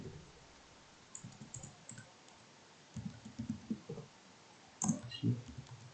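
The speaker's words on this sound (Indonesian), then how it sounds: "Kita ketikkan saja misal" Computer keyboard being typed on, quiet irregular bursts of clicking keystrokes in short clusters, close and faint with no talking.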